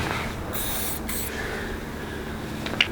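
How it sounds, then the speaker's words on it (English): A spray paint can fitted with a mounted AP female fat cap releases steady hissing bursts, loud and close, with short pauses between sprays. "make sure the spray is not facing you, because when you mount these, you gotta make sure that it sprays"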